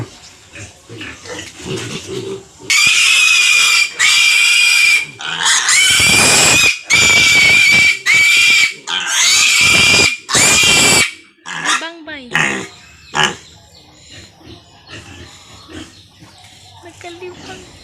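Young piglets receiving injections let out loud, shrill squeals in repeated long bursts, close by, with grunts and a voice speaking in the gaps between cries.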